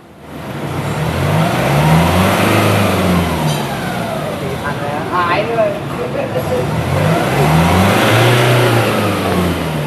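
A diesel Nissan Navara pickup engine, repaired after running slow and blowing black smoke, is revved and held near 3500 rpm, with rising and falling engine tones that stay loud and close throughout.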